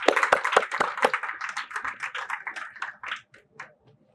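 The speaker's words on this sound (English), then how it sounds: "I wish we should give a big applause to your CEO for taking this initiative." Audience applause at a marketing guest lecture honouring the CEO, a dense burst of many hands clapping that gradually thins out and fades over about four seconds, with no talking over it.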